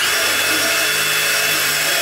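A power drill drives a wafer-head Phillips screw, heard as a steady, close, high-pitched motor whine that holds level and unbroken for about two seconds with no voices.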